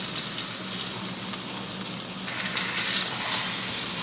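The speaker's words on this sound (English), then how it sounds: "So you can really see the sizzle in high definition." Steady, loud sizzling of sockeye salmon frying in garlic butter in a hot pan, a continuous crackling hiss that swells slightly toward the end.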